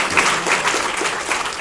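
An audience claps for an honoree at a commemorative program, a dense, steady wash of applause from many hands at moderate distance, continuous and even with no break.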